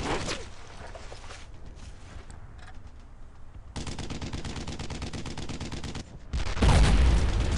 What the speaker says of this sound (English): he just shot at that angle